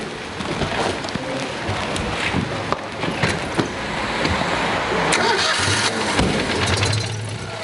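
A Citroën 2CV's small engine cranks and catches, then settles into a rough, steady idle, heard up close.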